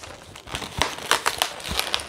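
Air escaping from a partly inflated 160 twisting balloon being let down after tying off a butterfly design, a close, uneven crinkling hiss with a few sharper rubbery squeaks and pops.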